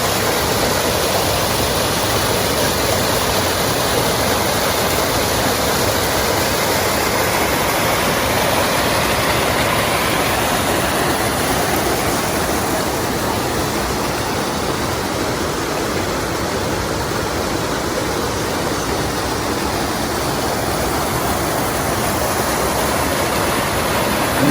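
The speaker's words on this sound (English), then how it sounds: "So this is Beecher Cascade. It looks very pretty today" Beecher Cascade, partly frozen with ice, producing a steady broadband rush of falling water, constant and fairly close, with no talking.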